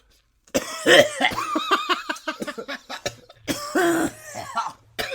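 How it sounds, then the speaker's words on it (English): A person coughs in a rough, sputtering fit, with some wheezy laughter-like breaths mixed in, loud and close, pausing before another burst. "I'm coughing now too."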